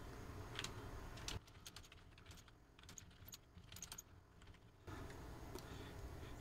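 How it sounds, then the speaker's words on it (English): Typing on a computer keyboard at a PC: a quick run of light clicking keystrokes, close and fairly faint, over steady room hum, with no one talking. "I'm going to start typing."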